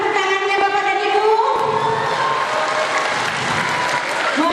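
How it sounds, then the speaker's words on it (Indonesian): An audience at a school farewell event claps together, a dense, steady burst of applause from a large crowd with some light cheering mixed in. "Mana tepuk tangannya Bapak dan Ibu?"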